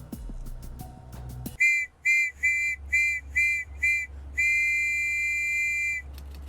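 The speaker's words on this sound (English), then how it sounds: "The police whistle sounds like it's coming from everywhere" A police whistle in a video game blows sharply, shrill and close, in six quick bursts and then one long sustained blast, cutting through a low ambient rumble.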